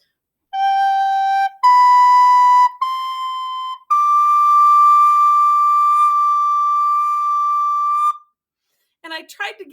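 A melody, the first phrase of the Saints song, is played on a clear whistle-like wind instrument as four sustained notes stepping upward, the last one held long, followed by a brief faint noise at the end.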